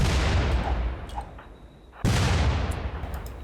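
In the colony-building game Rimworld, heavy gunfire booms close and loud, a burst of shots that fades into a short lull, then a second sharp blast and rattling fire with scattered clicks.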